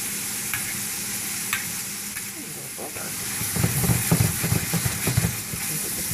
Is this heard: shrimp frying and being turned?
yes